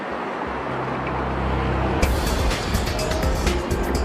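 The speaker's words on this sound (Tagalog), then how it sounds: "dito sa aking kinatatayuan sa EDSA sa tapat lang ng MRT Quezon Avenue Station ay mabilis pa ang takbo ng mga sasakyan" Fast-moving traffic on EDSA in front of the MRT Quezon Avenue Station, a low steady engine rumble that swells sharply halfway as vehicles rush past close by, with continuous road roar afterward.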